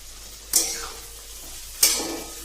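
A ground paste of green chilli, ginger, garlic, curry leaves and coconut fries in a hot pan, with a low sizzle broken by two sharp spoon-against-pan strikes.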